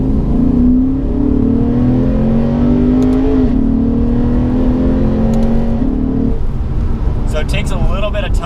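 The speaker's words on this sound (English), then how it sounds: "it takes a little bit of time for that horsepower to ring it out in second gear" Lexus RC-F naturally aspirated engine pulling in second gear from inside the cabin, a steady droning tone rising in pitch, dipping briefly at a shift, then climbing again, with someone talking over it.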